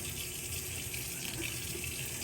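Water from a sink tap runs steadily into a graduated cylinder being filled toward the 100 mL mark. The flow is a continuous, close hiss with no talk over it.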